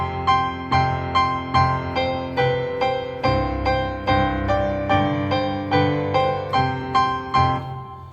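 Piano chords with the bottom notes left out, in a steady rhythm struck about every half second, with a bright, somewhat thin upper-register tone and no voices.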